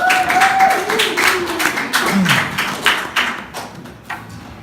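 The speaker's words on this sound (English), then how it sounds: "One more round of applause for James McAliney." Applause from the audience at a comedy open mic. A burst of clapping fades unevenly over several seconds, with scattered claps and a voice sliding through the middle.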